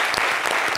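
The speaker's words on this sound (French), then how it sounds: "Ça s'applaudit." Studio audience applause on a TV talk show, a dense burst of many hands clapping filling the whole short moment, loud and close with no voices over it.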